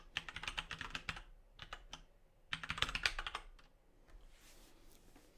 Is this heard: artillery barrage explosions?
no